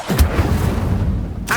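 In Hogwarts Legacy, the Incendio fire spell goes off as a short, heavy whooshing boom with a rumbling burst of flame that fades quickly, followed by a brief sharp flare.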